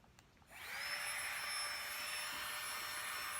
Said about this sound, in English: Rechargeable air pump.